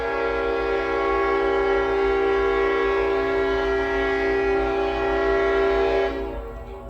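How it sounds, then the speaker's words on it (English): Train horn blowing loud and close for about six seconds, a steady sustained chord over low rumbling rail noise, then cutting off and fading as the train moves on. "Oh, come on, train."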